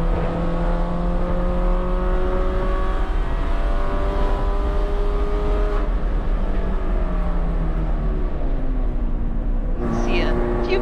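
Race car on a partially wet track with puddles off the racing line: a loud, continuous engine drone with gear-shift pitch sweeps, heard from inside the car.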